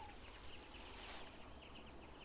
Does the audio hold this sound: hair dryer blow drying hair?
no